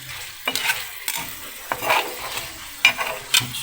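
Chicken pieces stirred in a hot frying pan for a Chinese chilli chicken dish, a series of scraping, sizzling strokes at an irregular pace with brief utensil clinks, close and fairly loud.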